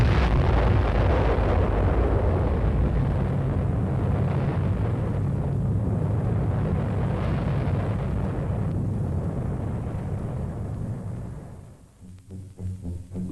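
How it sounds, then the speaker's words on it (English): A nuclear bomb test explodes in the desert, a long, loud, roaring blast rumble that holds steady for about ten seconds, then fades into uneven, fainter bursts. "still near enough for a close-up view of the explosion"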